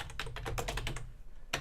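Computer keyboard typing a name into a web form, a quick run of close, crisp key clicks with a short pause and one final keystroke.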